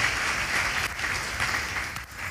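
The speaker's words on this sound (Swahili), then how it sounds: "Tumpigie makofi mazuri." Applause from a church congregation at a prayer rally service, steady and fairly close, filling the whole short stretch with dense clapping and no clear voices.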